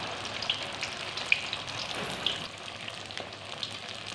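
Pempek fish cakes fry in hot oil for a steady, close sizzle with fine crackling and a few sharper pops, continuous throughout with no talking.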